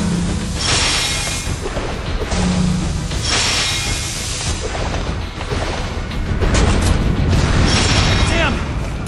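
Sustained gunfire and booming blasts are aimed at a monster's weak spot in Resident Evil: The Umbrella Chronicles, loud and continuous, layered with explosions and game noise while voices speak.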